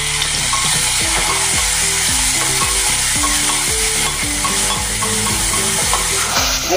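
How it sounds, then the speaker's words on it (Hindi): Tomatoes fry in a pulao pan with carrots and peas, a loud steady sizzle under rapid, rhythmic scraping strokes of a spoon stirring the mixture up close. "अभी इसमें हम टमाटर डाल देंगे।"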